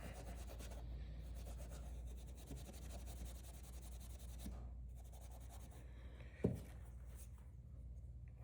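Steel wool rubs back and forth over a Case Stockman pocket knife, with penetrating oil worked in: a steady, close scratchy scrubbing that runs throughout, with one brief sharp knock near the end.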